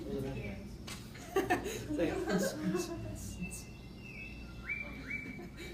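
Bursts of rapid, chattering calls from a six-plumed bird of paradise ring out from a forest, followed by a few thin rising whistles, with no voices.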